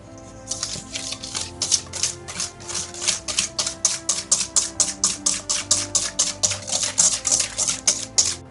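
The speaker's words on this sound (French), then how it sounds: "On va mélanger le tout." Brown sugar is stirred into lemon cake batter in a bowl, making a fast, regular series of wet, clacking scrapes about three per second, close and fairly loud, with no talking.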